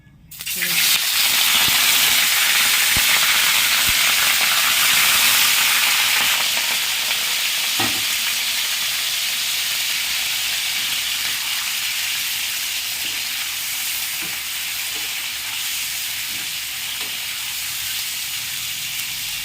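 Loud, steady hiss and sizzle of chicken frying in hot oil with whole garam masala, starting suddenly and then settling into a continuous crackle, with occasional faint clinks of a utensil.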